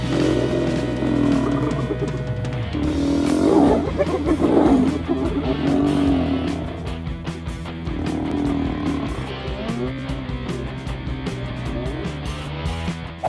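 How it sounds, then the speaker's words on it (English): A lion on a road gives deep, drawn-out roars and rumbling growls, loud and close, rising and falling in several long bursts over about thirteen seconds. "They're clearly pretty wary of this lion,"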